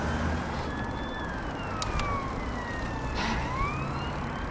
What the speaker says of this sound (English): Oh, actually, a police car coming on.